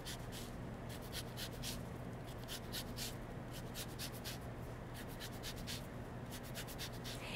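An orange being zested for cream cheese icing gives a steady run of quick, dry rasping strokes against the grater, close and fairly quiet with no voices.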